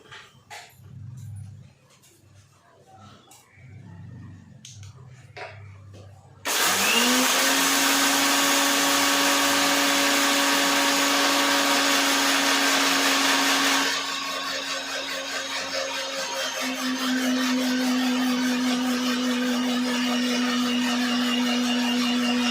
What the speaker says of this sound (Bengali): সর্ষে পোস্তটাকে শুকনো বেটে নিলে পরে গুঁড়াতে খুব সুন্দর